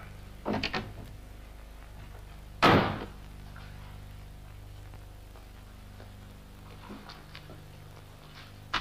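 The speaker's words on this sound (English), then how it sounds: "Now get out and close the door behind you." An interior door swings shut with a single sharp thud about a third of the way through, preceded by faint footsteps or handling and followed by a quiet room tone, in a 1966 British television drama.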